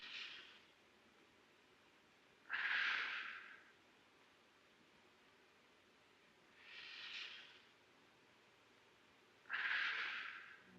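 Slow, labored breaths from the wounded soldier Joe Bonham sit in near silence, three heavy airy inhales or exhales spaced several seconds apart, close and hissing.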